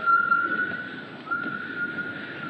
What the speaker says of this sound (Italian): Senti il fischio di quella bambina.